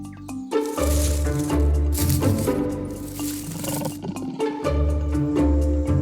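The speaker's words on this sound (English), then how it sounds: "Their deep roars can be heard throughout the rainforest" A jaguar roars in the rainforest, with deep, rumbling, rasping roars in repeated pulses, loud and close, layered with dense background texture and no talk.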